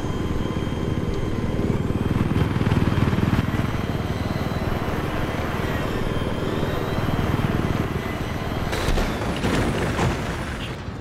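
A helicopter in the video game Battlefield 3 gives a loud, continuous rotor and engine roar that stays fairly steady throughout, with a few faint thuds and no talk.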